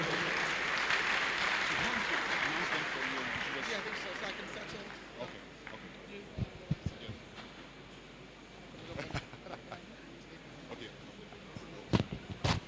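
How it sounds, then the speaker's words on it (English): Applause from an audience at an entrepreneurship bootcamp swells loudly at first, then thins into scattered claps as a voice speaks over it. "Please make the applause a bit louder"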